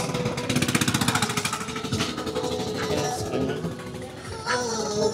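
Motorcycle engine running nearby at an outdoor food stall, a steady rhythmic putter under street bustle and ambient noise.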